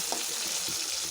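Onions frying in a pan make a dense, steady sizzle with faint stirring scrapes, heard briefly and up close.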